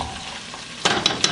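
Tomato paste frying in a pot for Nigerian jollof rice, a soft sizzle that swells suddenly partway through with a few brief stirring scrapes, close and moderately loud.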